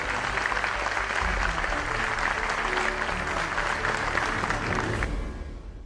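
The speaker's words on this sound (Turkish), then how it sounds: "Onun için en büyük alkışı Abdullah Bey'e" An arena crowd at a EuroLeague basketball game between Fenerbahçe Beko and Alba Berlin bursts into loud, sustained applause. The thick clapping holds steady, then thins and fades near the end.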